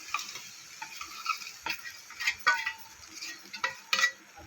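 Jaggery being stirred into hot ghee in a kadhai over a gas flame: light scraping and stirring clicks with a faint sizzle, irregular and close, no talking.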